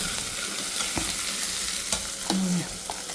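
Garlic and onion, first boiled, fry in oil with a faint continuous sizzle, broken by a few sharp taps and scrapes of a stirring spoon against the pan.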